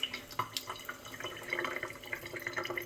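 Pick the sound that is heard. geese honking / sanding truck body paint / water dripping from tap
water dripping from tap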